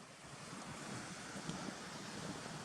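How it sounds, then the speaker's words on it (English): Continuous broadband rushing of whitewater rapids tumbling down a series of falls in Gunnerside Gill, a steady close roar with no voices. "This one's quite big as well because it comes tumbling down that many falls. You've always got the whitewater rapids coming all the way down"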